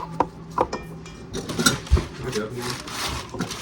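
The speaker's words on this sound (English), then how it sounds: "And we're gonna whisk this around." Coconut oil mixed with an egg is whisked in a bowl, giving quick irregular scraping and tapping strokes under a person's speech, with one sharp knock partway through.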